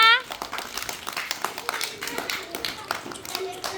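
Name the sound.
children clapping hands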